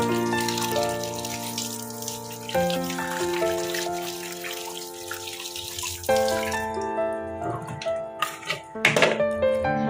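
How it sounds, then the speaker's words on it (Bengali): Tap water runs steadily into a kitchen vessel to soak fish, including rohu fish head, a continuous close splashing flow that lasts throughout, with clinks of pots and dishes. "মাছটা জলে ভিজিয়ে দিই জলটা মানে জল দিলে মাছটা একটু তাড়াতাড়ি ছেড়ে যাবে"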